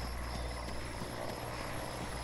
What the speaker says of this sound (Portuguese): Eu vou derrubar o helicóptero.